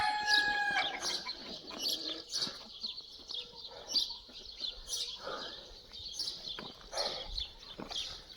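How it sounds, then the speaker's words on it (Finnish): A rooster crows outdoors along the Camino Francés near Los Arcos in Spain, its call ringing out at the start over faint farmyard clucking and bird sounds, moderately distant and alone without talk. "Onko se vihainen kukko?"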